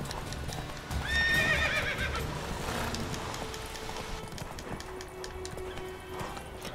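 A horse in The Witcher 3: Wild Hunt whinnies loudly near the start, then its hooves clip-clop in a steady galloping rhythm beneath game ambience and music.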